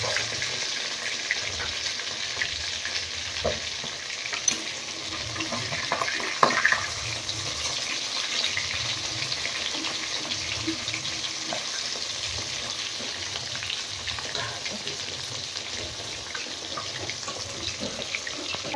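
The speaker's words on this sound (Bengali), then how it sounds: "চিকেন কষা হচ্ছে।" Chicken being sautéed (kosha) in a pan over a wood-fired kitchen fire, a steady sizzling and frying hiss running throughout with occasional stirring clatter, fairly close and continuous, no talk.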